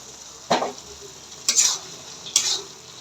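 Pre-fried potatoes tipped into a pan of cooked-down tomatoes and spice paste for a quail egg curry, making three separate bursts of sizzling and stirring over a quiet background hiss.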